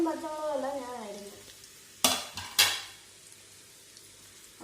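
Onions are stirred and fried in a pan for a Kerala-style egg roast, a faint sizzle under a brief stretch of voice at the start, then two sharp scraping stirs of the spatule against the pan.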